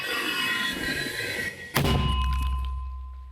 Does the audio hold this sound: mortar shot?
yes